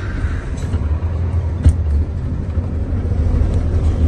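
A truck engine idles steadily at a produce market gate in Curitiba, a low continuous rumble with a brief knock near the middle; the engine was not shut off properly and has an air intake fault.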